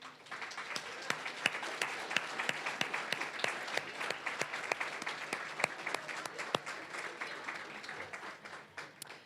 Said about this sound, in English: give a round of applause to the folks that you've brought with you